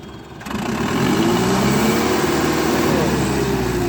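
A turbo-intercooled tractor engine picks up from a lower note and rises into a steady, louder revving drone close by, holding its higher pitch to the end.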